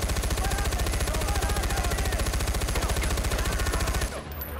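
Sustained automatic gunfire in the video game Far Cry 4 fires in a rapid, evenly spaced, loud burst for about four seconds, then stops abruptly.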